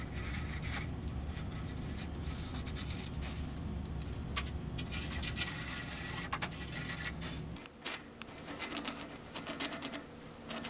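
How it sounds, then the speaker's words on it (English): Needle files rasping against guitar wood, a close, continuous dry scraping that runs steadily, then turns into lighter, intermittent strokes near the end. "Time to clean it up with needle files."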